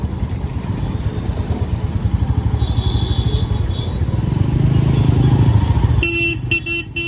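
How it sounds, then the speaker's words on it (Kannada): A Royal Enfield Goan Classic 350 motorcycle exhaust, sharing the Classic 350 engine, gives a steady rapid thumping that swells slightly, then a few short horn toots cut in near the end. "ಈ ಗಾಡಿಗೆ ಆಲ್ಮೋಸ್ಟ್ ರೀಬಾರ್ನ್ ಕ್ಲಾಸಿಕ್ 350 ಎಕ್ಸಾಸ್ಟ್ ಸೌಂಡೇ ಕೇಳಿಸುತ್ತೆ"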